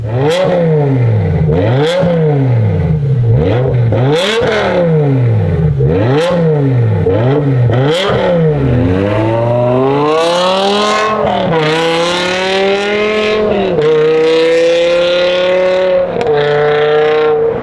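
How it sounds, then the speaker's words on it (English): Lamborghini Gallardo V10 with an Eisenmann exhaust revved repeatedly up close, a series of sharp rising and falling blips followed by longer, sustained high revs, loud and alone with no talking. "I'm gonna rev it, give you guys a few revs so you can hear what this V10 sounds like."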